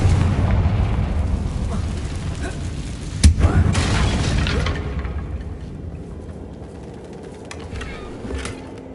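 A Confringo blasting spell goes off in Hogwarts Legacy with a sharp crack and booming burst amid a rumbling, rolling game soundscape that gradually fades out.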